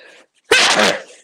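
One sharp, loud human sneeze bursts out at close range during a football preview chat, preceded by a moment of quiet.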